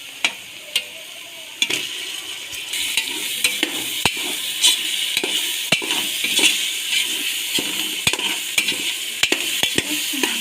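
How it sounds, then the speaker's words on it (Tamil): Ginger garlic paste and tomato fry in a pan for mushroom biryani, with a steady bright sizzle. A spoon stirs and scrapes through it in repeated sharp clinks, close up, with no talking. "அடுத்தது இஞ்சி பூண்டு பேஸ்ட்டு, தக்காளி ஆட் பண்ணிக்கலாம்."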